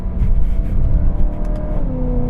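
A BMW M3 engine drones loudly from inside the car while driving, its revs climbing and holding in a steady, rising tone, with no one speaking.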